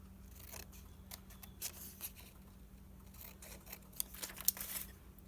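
Scissors snip through a paper picture for a homemade postage-stamp craft: soft, faint cutting sounds with a few sharper clicks toward the end, heard up close with no talking.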